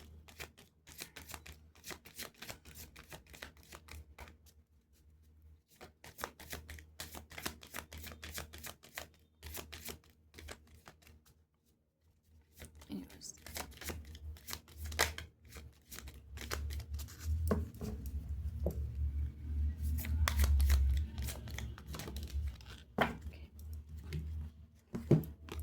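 A deck of tarot cards is shuffled and riffled repeatedly, producing rapid close clicking and flapping bursts with short gaps and a heavier, denser stretch in the latter half.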